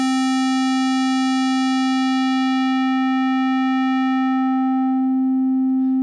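A synthesized square-wave tone held at one steady pitch while a low-pass filter cutoff sweeps downward, so the buzzy upper harmonics fade away and leave a smoother, purer tone; loud and continuous with no other sounds.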